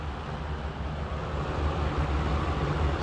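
A vintage late-1960s or early-1970s 12-inch Wells Royal electric fan runs on low speed, giving a steady, soft whooshing hum with a low motor drone and no other sounds.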